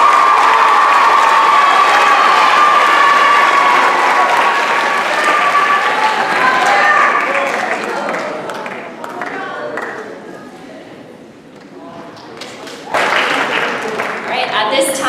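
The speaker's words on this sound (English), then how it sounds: "Round of applause." Loud audience applause and cheering at a middle school class of 2017 graduation ceremony, with sustained clapping, whoops and children shouting that ease off toward the end before a fresh surge of cheers.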